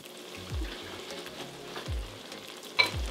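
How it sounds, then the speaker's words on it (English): Keto beef stroganoff sauce with softened cream cheese on a low simmer in a pan, giving a gentle bubbling sizzle with a few soft low thumps and a brief clink near the end. "our pan is just on a low simmer right now"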